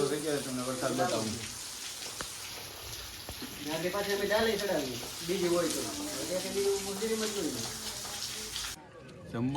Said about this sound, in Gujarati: વરસાદ ચાલુ થઈ ગયો તમને વરસાદ બતાવું